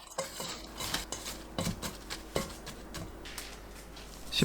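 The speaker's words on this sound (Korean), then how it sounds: "당근, 꽃소금 넣고 버무려서 20분 놓아둡니다" Sliced carrots being tossed with salt in a bowl, giving soft repeated scraping and clinking with scattered sharper taps over a low background, close and fairly quiet throughout.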